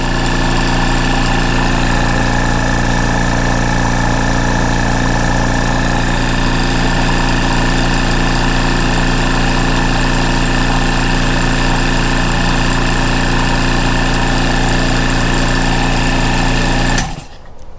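A Rolair JC10 Plus air compressor runs steadily and close by with a constant, even mechanical hum that holds for most of the stretch, then cuts off abruptly near the end.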